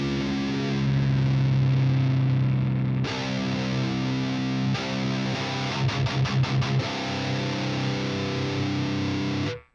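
Electric guitar played through a heavy distortion effect during a livestream, sustaining thick, loud chords with a short burst of fast choppy strums near the middle before the sound cuts off.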